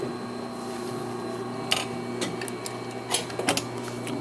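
A sewing machine hums steadily while stitching a welt pocket flap, right sides together with a quarter-inch seam allowance, starting from the center. A few soft clicks and taps come from handling the fabric.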